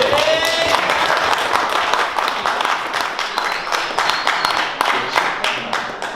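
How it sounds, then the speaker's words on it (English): Audience applause and clapping for a person at a Bitcoin embassy talk, dense and sustained throughout with scattered cheers, loud and close. "I want a big applause for Marek."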